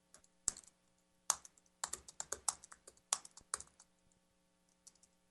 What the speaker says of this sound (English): Let's remember our touch typing.